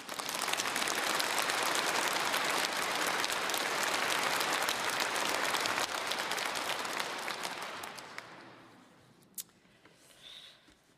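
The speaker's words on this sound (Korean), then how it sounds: "평화 방송을 시청하시는 분들에게도 우리 함께 박수를 보내는 것이 어떻겠습니까?" An audience at a Catholic Lenten lecture gives sustained, dense applause that lasts about eight seconds, then thins and fades out into a few scattered claps.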